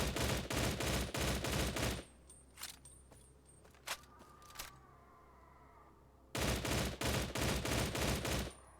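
An M16A2 rifle in a video game fires loud, rapid bursts at the start and the end. Between them comes a quieter stretch with a few isolated clicks and mechanical handling noises.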